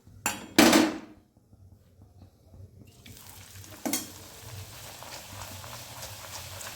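Pea kachori deep-frying in a kadai of hot oil, two sharp clattering bursts at the start and another a few seconds later, then a soft, steady sizzle close by with no voices.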